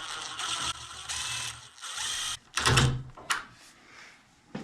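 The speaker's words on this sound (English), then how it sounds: "So now I'm going to screw this hinge on" A hinge being screwed onto a door, heard as a run of ratcheting screwdriver bursts in steady rhythm, then a louder clunk and a few shorter clicks, close and with no talking.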